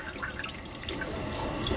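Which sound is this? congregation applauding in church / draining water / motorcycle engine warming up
draining water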